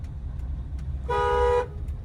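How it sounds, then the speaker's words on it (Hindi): A single short car horn honk, about half a second long, sounds over a low rumbling engine idle. "1 से 2 बार हॉर्न देना बस"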